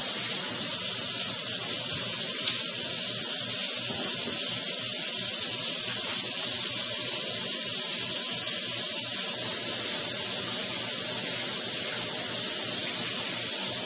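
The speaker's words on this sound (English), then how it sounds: "excuse me 1 second while I wash my hands" A kitchen tap runs steadily while hands are washed, giving a continuous even hiss of flowing water that stays close and fairly loud throughout, with no talking.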